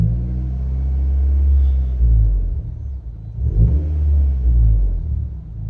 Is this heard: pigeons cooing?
no